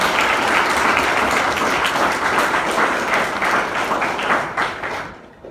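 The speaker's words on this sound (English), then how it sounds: "I would like to request for another round of applause for Hannah and Imran" Sustained applause from a graduation ceremony crowd in Shah Alam honouring Hannah and Imran, loud and dense, holding steady before fading out toward the end.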